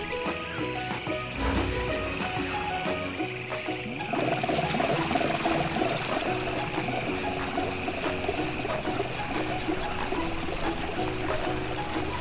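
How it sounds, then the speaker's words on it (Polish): Water pours steadily from a hose into a small lake, a continuous splashing trickle that grows louder partway through and keeps running to the end. "żeby wypełnić wodą nasze jezioro."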